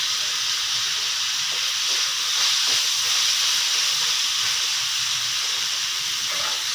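Cauliflower and peas masala frying in a pan, giving a steady, loud hiss and sizzle that holds evenly throughout with no talking.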